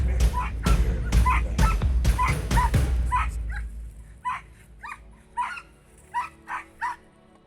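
K9 tracking dogs barking eagerly during a ranger manhunt: a rapid burst of loud, close barks, then scattered sharper, higher yips and barks further off, with no talk.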